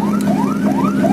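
A police car siren wails with repeated rising sweeps as it passes along a city street in Makassar, loud and steady over traffic and engine rumble.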